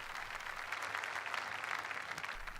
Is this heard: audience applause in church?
yes